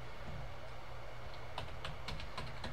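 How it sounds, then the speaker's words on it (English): Faint keystrokes on a computer keyboard tap out a few irregular clicks over a steady background hum, with no voices. "I can type it in actually."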